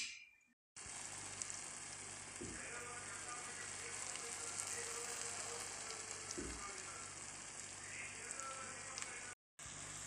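Pomfret fish with freshly ground masala fries on a tawa under a lid, a steady dense sizzle like light rain that runs nearly unbroken and close, with a couple of soft knocks and a brief cutoff near the end.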